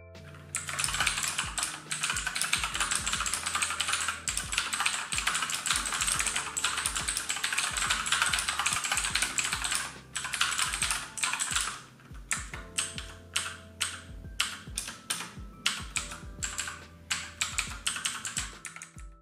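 Typing on an Aukey budget gaming keyboard with tactile clicky switches: a dense, steady clatter of sharp key clicks, close and loud, thinning into separate keystrokes toward the end, with no talk.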